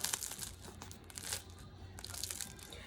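A fresh French baguette's crust crackles as it cools, giving soft, scattered crunchy ticks and crinkles up close, quiet and continuous with a few denser bursts, and no voices.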